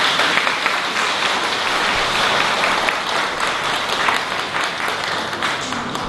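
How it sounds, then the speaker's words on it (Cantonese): A congregation at a feast-day Mass in a small Sai Kung village chapel claps together, loud continuous applause from many people filling the room for several seconds. "俾啲掌聲大家自己啦。"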